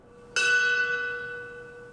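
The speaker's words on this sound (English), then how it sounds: "A fire station bell is struck in 4 sets of 5 consecutive strikes." One loud strike of a fire station bell at a memorial ceremony in Dakota City, Nebraska, its bright metallic ring hanging and slowly fading afterward.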